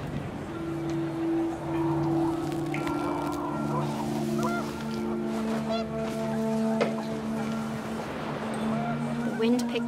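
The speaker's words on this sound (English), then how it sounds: "The wind picked up, and panicked geese appeared and quickly went." Geese honk loudly and excitedly outdoors as the wind picks up, their calls layered over one another through most of the stretch before they quickly move off.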